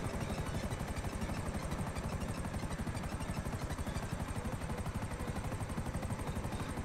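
A helicopter in the video game GTA Online thumps with steady, rapid rotor chops, loud and continuous throughout, with no voices over it.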